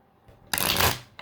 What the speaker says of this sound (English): I'm going to shuffle both of them.